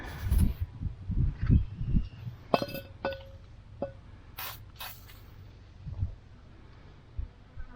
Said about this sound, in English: Spray all this up with a PB blaster.